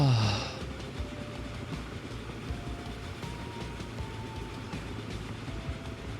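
Trains running in Transport Fever 2 give a steady, moderately loud rumble of rolling rail cars with faint clicks and thin whistling tones, opening with a brief louder burst before settling into a continuous hum.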